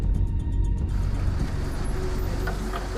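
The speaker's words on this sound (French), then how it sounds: "Son ami arrive en voiture." A car pulls up with a low engine rumble and road noise, steady and fairly close for a few seconds, with a faint rhythmic ticking early on and no speech.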